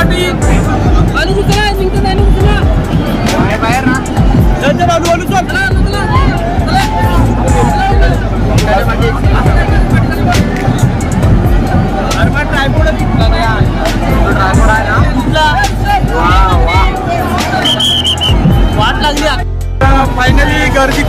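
A dense, loud crowd murmurs and chatters steadily at the Ekvira temple palkhi festival in Karla, a constant wash of many voices with occasional nearby speech.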